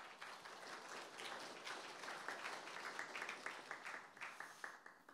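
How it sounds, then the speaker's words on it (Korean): Applause welcoming a speaker at a university anniversary honorary doctorate ceremony, a fairly faint audience clapping that swells, holds steady, then thins into scattered individual claps as it dies down. "환영의 박수로 모시겠습니다"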